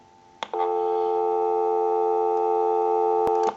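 A busy signal plays through a Wesco wooden wall telephone converted for modern line use, a loud steady tone lasting about three seconds, framed by sharp clicks at the start and end.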